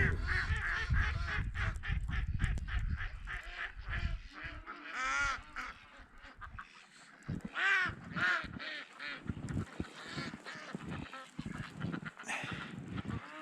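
Birds being fed outdoors near a school and pine grove in Yozgat, loud honking and squawking calls in uneven bursts, with fluttering as some fly off and return; no talk over them.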